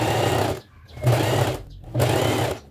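Domestic sewing machine stitching bias binding onto a fabric ecobag, three quick bursts of whirring motor hum separated by short pauses, close and clear with no talk.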